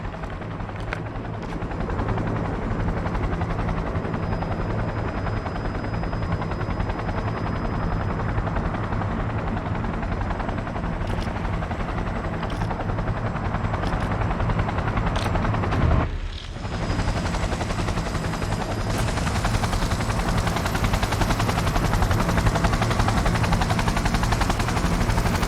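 Helicopter taking off in the video game Cyberpunk 2077, with a steady loud rotor and engine roar filling the whole stretch. A brief dip partway through comes before the roar resumes, slightly brighter.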